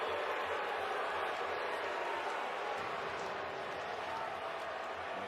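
A college baseball crowd at the Men's College World Series reacts to a strike call on an outside pitch in the eighth inning, giving a sustained, loud wash of stadium noise that runs unbroken.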